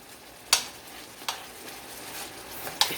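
A few sharp scrapes of a spoon stirring flour into beef Angus boneless chuck steak pan juices, spaced about a second apart over a low steady background hiss.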